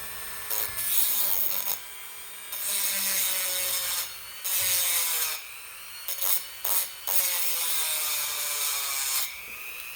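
Grinding along the edge of a stainless steel watch band, a rough abrasive rasp in several bursts of a few seconds each, separated by short pauses, fairly close and steady with no talking.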